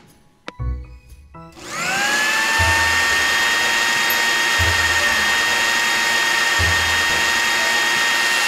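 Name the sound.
blender blending watermelon, carrot, mango and avocado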